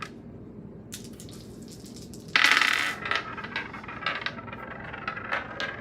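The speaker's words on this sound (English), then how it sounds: "That dice just likes to go all the way around the world, I swear." A tossed die clatters and tumbles across a table during a tarot card reading, a sharp bright rattle followed by several scattered bouncing clicks that fade over a few seconds, with no voices.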